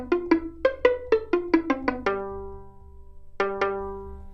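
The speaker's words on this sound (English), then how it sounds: "Right, so I'll load up pizzicato here just to hear." Pizzicato violin from an Ableton orchestral strings sound pack: a quick run of about eight plucked notes, a longer ringing note, a pause, then two more plucks, all clear and close with no voices.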